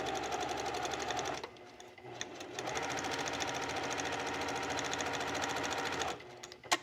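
Sewing machine stitching a seam in fabric with white thread, a steady close whirring run that pauses briefly around mid-way and again near the end, with no talk.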